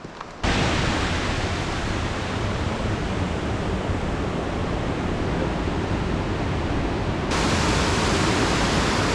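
Steady rushing water roars continuously, like a waterfall heard close by, a dense even wash of noise with no voices.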